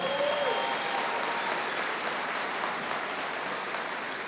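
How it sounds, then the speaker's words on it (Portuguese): A church congregation applauds a couple arriving, a broad, diffuse wall of clapping that stays fairly even and slightly distant, with a faint tonal whine at the start. "uma salva de palmas para esse casal"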